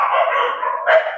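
A dog barks nearby in one loud, rough, drawn-out bark with a sharper yelp near the end.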